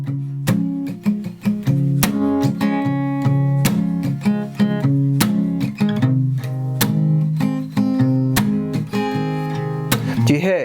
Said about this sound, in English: but I get this nice palm mute sound